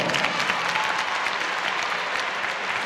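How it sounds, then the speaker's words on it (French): Steady applause from a crowd of candidates clapping for the public in a hall, a full, continuous patter of many hands at moderate level. "je vais vous demander, vous, d'applaudir le public"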